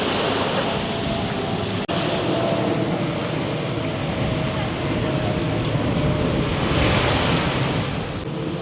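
Ocean waves at the edge of Sanur beach in Bali, near a resort, sound as a loud, steady broadband wash of surf mixed with heavy wind buffeting the microphone throughout.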